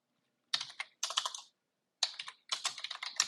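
Keys clatter on a computer keyboard as an SQL query is typed, quick close clicks in four short bursts separated by brief silences.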